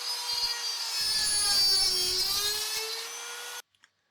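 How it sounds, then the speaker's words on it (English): A fast-spinning 1/8 inch drill bit boring through a metal sheet gives a high, steady whine with a shifting pitch and grinding undertone, then cuts off abruptly, followed by two faint clicks. "I'd planned to drill all the way through the sheet with this 1/8" drill bit"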